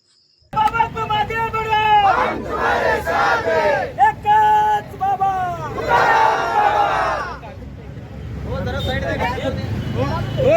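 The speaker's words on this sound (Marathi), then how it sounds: "फटाके फोडून गुलाल उधळत एकच जल्लोष साजरा केला" A large crowd of youth trainees from across the state celebrating with firecrackers, loud sustained cheering and chanting voices shouting together close by, continuous through the clip.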